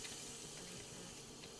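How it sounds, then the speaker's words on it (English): Water runs steadily from a kitchen sink faucet in a continuous, even hiss and splash, close and fairly loud, with no talking. "I'll turn the faucet on,"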